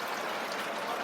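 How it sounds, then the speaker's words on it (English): An indoor waterfall flowing down a wall in a Greco-Roman-styled building, a steady, even rush of falling water heard close, with no pauses. "you're actually watching the water flowing down the wall"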